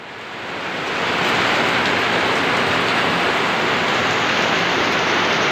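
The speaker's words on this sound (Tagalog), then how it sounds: "maririnig mo yung bugsuan ng hangin at ulan" Heavy rain with strong gusts of wind roars in a dense, steady wash that swells in over the first second and then holds loud and unbroken, with no voices.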